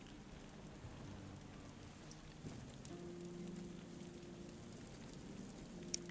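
Steady, soft rainfall patters in the open-world fantasy game Tainted Grail: The Fall of Avalon, a faint continuous hiss with a low droning tone underneath and no voices.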